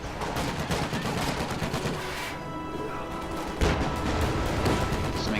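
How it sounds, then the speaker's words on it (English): Flak half-track and Puma armoured car firing in Company of Heroes, a dense, continuous crackle of rapid gunfire and impacts with a heavier burst near the end, loud and without talk. "Flak half-track firing on the station. Puma also firing on the station."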